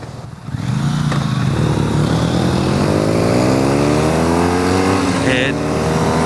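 Sport motorcycle engine under way on a test ride, a steady loud drone with rising and falling pitch as revs climb through gears, wind rush mixed in, with a voice talking over it.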